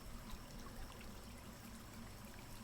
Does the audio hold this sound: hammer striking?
no